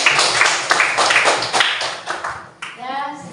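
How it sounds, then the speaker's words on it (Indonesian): A group claps hands together at a religious gathering, a dense burst of close applause that fades out near the end into a brief stretch of speech. "Tepuk tangan dulu untuk semuanya."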